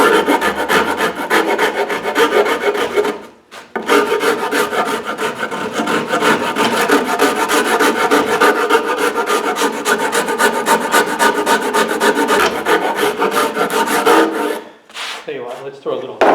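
Hand rasping a thick wooden guitar neck with a Japanese rasp, steady continuous rhythmic scraping strokes, close and loud, with two brief pauses.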